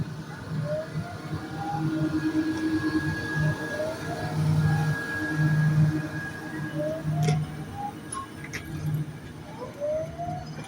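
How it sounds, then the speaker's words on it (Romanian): A train departs a station at Neptun bound for Constanța and București Nord, a low rumbling roll with wheel squeals and rising whines gliding over it, steady at moderate distance throughout. "Trenul ăla care pleacă, acum pleacă la Constanța și București, Nord."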